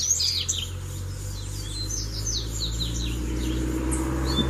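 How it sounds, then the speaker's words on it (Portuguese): Three collared seedeaters squabble over territory in the countryside, sending out repeated sharp, high chirps and short twittering bursts close by over a steady low rumble of background noise. "São três coleiras brigando pra ver qual que vai descer na gaiola do Braddock."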